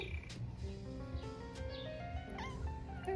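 Cat meowing at a cat cafe, a couple of short, faint, rising mews close by over a low steady room hum, with soft background sounds between them.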